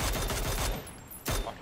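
Gunfire bursts in the shooter PUBG, a rapid fusillade of shots in the opening second, a short pause, then another loud burst near the end.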